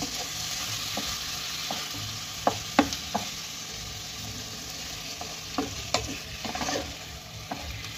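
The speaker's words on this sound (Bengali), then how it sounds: "এবার জল ছাড়া অবধি আমি এটাকে ভালোভাবে এতে ভেজে নেব।" Marinated chicken frying with browned onions in a pan, a steady sizzle beneath scattered scrapes and knocks as it is stirred, with no talking.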